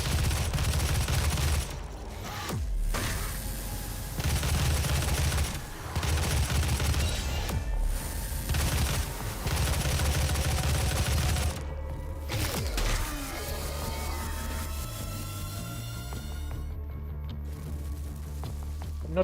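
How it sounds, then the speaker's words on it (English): Heavy rocket machine gun fire from Doom (2016), sustained bursts of rapid booming shots in several long strings separated by short pauses, loud and close, with mechanical and combat sounds trailing into the final seconds. "Who wants to eat rocket machine gun? You want to eat rocket machine gun?"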